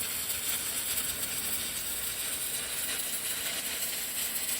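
Stick welding with old 7018 rods, a continuous dense crackle and sizzle of the arc, steady and close with no breaks or talking.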